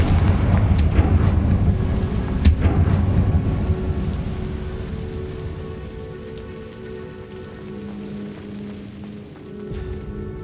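Repeated Confringo blasting-spell explosions in Hogwarts Legacy, loud rumbling booms with crackling debris, strongest at the start and fading into a softer lingering rumble.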